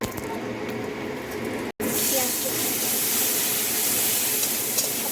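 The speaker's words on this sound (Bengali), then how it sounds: "তেলের মধ্যে গোটা গরম মশলা ফোড়নে দিয়ে দেবো একটা তেজপাতা" Whole garam masala and a bay leaf hit hot oil with a loud, continuous hiss and sizzle, broken by a brief cut near the start, then steady to the end.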